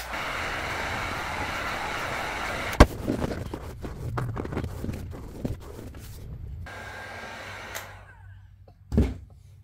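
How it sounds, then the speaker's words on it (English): A heat gun blows with a steady whooshing roar while warming vinyl on an old truck seat during upholstery work, then clunks and rustles break in and the blower fades out near the end. "Let's go ahead and warm up the vinyl a little bit with a heat gun."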